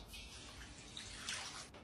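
Water is tipped out of a wok during seasoning, a faint, continuous splashing pour with a few brighter sloshes near the end, heard alone.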